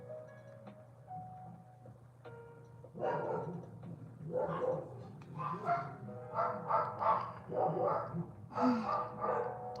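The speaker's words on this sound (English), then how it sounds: "Now all 5 of them are barking" Five dogs bark repeatedly and overlap in bursts, fairly close by, growing busier after the first few seconds.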